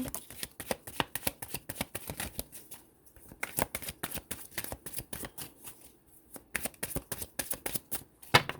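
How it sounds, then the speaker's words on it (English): Tarot cards are shuffled by hand in quick bursts of crisp, riffling slaps and flutters, close and fairly soft, with brief pauses between runs. "Spirit, give me a few more cards to pull."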